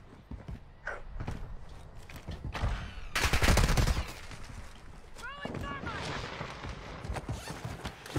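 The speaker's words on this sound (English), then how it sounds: "Getting sniped from somewhere else now." Gunfire and sniper shots in a battlefield video game, with scattered shot cracks and a dense burst of fire in the middle, followed by ringing metallic tones, while a player talks over it.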